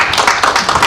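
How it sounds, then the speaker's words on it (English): Audience applause at a project launch event, a dense steady patter of many hands clapping throughout, fairly close and loud. "A hearty round of applause."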